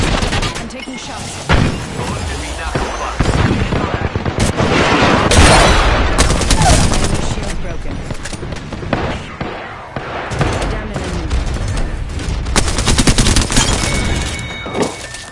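Video game gunfire in a close-quarters firefight, dense rapid volleys and booming shots running almost nonstop, loud and up close, with voices talking under the shooting.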